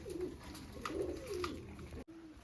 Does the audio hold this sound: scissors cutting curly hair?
no